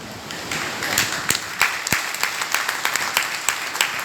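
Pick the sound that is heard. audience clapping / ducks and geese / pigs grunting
audience clapping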